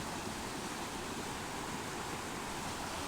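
Water at Mammoth Spring, Arkansas surges in a dense, steady broadband rush with no break, close and fairly loud, with no voices.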